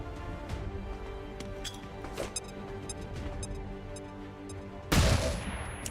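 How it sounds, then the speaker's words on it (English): A flashbang grenade goes off in XCOM 2 with a sudden loud burst of noise after a stretch of ambient clicks and pops, then fades into a ringing tail. "Let's flashbang him."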